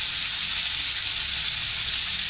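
Just over two pounds of stew beef browning in a hot pan, a steady loud sizzle and crackle holding close and unbroken throughout, with no voices.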